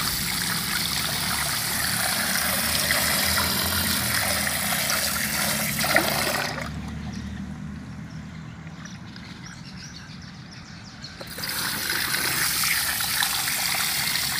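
Treated city water runs hard from a tap into a stainless steel sink, a steady loud rushing stream that drops to a softer flow for several seconds before surging strongly again.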